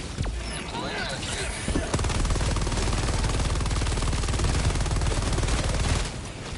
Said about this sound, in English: Minigun turret should lay that smack down here